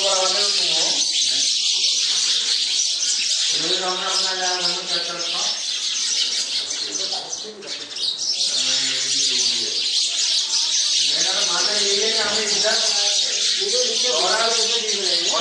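Sparrows chirp in a dense, busy chorus of bright overlapping calls, close and loud throughout, with a brief dip in the middle.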